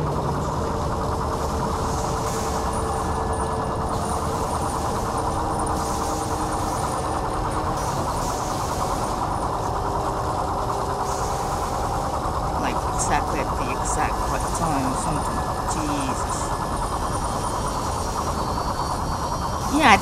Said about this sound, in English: I feel like that's the sound of the super huge chair or something